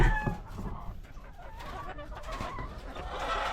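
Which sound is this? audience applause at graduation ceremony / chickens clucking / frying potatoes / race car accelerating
chickens clucking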